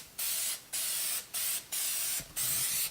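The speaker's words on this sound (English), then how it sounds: "now we're going to spray the paint right over the top of our vinegar water solution." Krylon Looking Glass spray paint hisses from the can onto glass over a vinegar-water solution in five steady bursts separated by short pauses, close and fairly quiet, with no talking.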